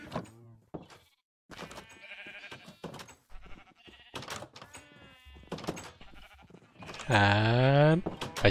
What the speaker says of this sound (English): And magical floating sheep.